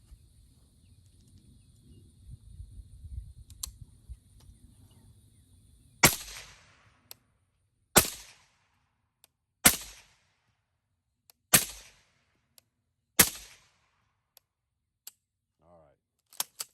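Five evenly spaced, sharp rifle shots of .308 rounds fed from an X Products X25 50-round drum, fired at bulletproof glass, each crack loud and decaying quickly, with faint clicks between and low rumbling noise beforehand.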